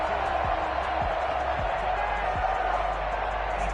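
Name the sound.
football stadium crowd cheering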